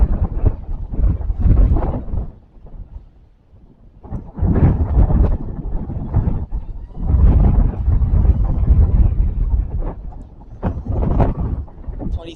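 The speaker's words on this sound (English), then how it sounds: "I can hear the wind and the rain in the distance." Hurricane Idalia's wind and rain arrive at landfall in gusty surges that rumble and roar, rising and falling in loud waves with a brief lull partway through.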